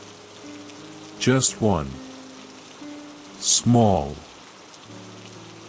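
Steady soft rain falls throughout at moderate level, a continuous hiss with faint tonal hum, while two short bursts of speech break in briefly.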